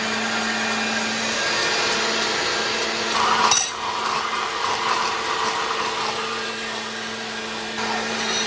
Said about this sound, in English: Blend it till it's one uniform color.